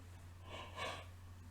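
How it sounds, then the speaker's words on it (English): A person yawns once, a breathy drawn-out exhale that swells and fades over about a second, close and quiet with no words. "Sorry for all the yawning."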